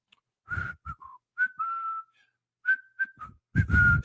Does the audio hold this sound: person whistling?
yes